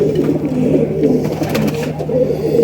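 Loud, close desi pigeons cooing in low, throaty, repeating rolls, continuous throughout without any talking.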